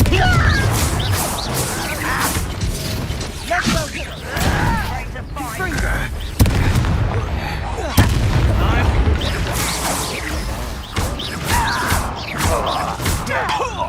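Repeated Confringo fire spell blasts in the video game Hogwarts Legacy: heavy booms and crashing impacts go off every second or two over a busy, loud stream of combat effects.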